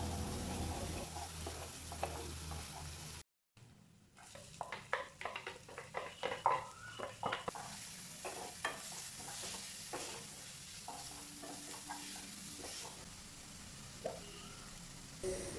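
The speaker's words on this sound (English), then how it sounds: "Mix it well and get it cooked until it gets bit soft." Two chopped onions sizzle steadily in a pan with spices and ginger garlic paste while a utensil stirs and scrapes them in repeated clinks and scrapes, close and moderately quiet, with no talking.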